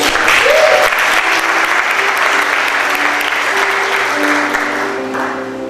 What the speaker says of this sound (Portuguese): vocês podem aplaudir os pastores?